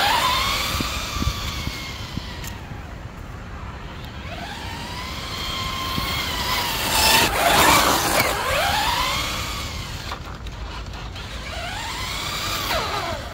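An FMS FCX10 RC car on a 3S battery runs fast in second gear, its electric motor whining in repeated rising and falling sweeps as it speeds away and returns, fading with distance and swelling again up close.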